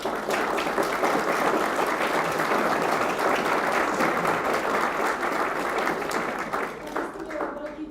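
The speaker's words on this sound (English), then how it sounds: "Let's give them all a round of applause" An audience gives a loud, sustained round of applause at an Australia Day Citizen of the Year awards and citizenship ceremony, dense clapping throughout that tapers slightly at the end.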